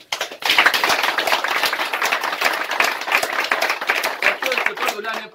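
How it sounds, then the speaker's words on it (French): Audience at a youth political party launch event claps vigorously, a dense, sustained burst of hand claps that starts abruptly and runs steadily for several seconds, close and loud, with a voice faintly underneath. "j'aimerais encore qu'on applaudisse vraiment fort pour ces jeunes courageux"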